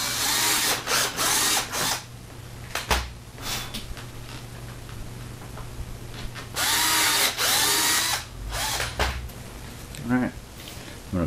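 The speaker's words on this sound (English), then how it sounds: "Now I'm gonna drill some holes for the rest of the mounting points" A power drill boring holes for the mounting points of a front lip on a Mazda Miata, in several bursts of whirring with pauses between, close up, with a person talking at times.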